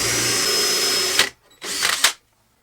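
A power drill bores a 25 mm deep dowel hole in wood, whining steadily at close range, dropping out briefly, then a second short burst of drilling before stopping.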